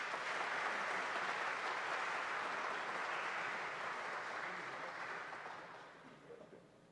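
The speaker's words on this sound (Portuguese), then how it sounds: "Uma salva de palmas aqui." Audience at an Afro-Brazilian culture tribute ceremony gives composer José Dias a round of applause, a steady wash of clapping heard from a distance that fades out toward the end.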